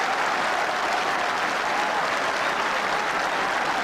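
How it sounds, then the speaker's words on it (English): Warm, steady crowd applause rings around Fitzgerald Stadium in Killarney during a hurling Munster final replay, a dense, continuous wash of clapping from a large crowd with no letup. "listen to the warm round of applause ringing around Fitzgerald Stadium in Killarney"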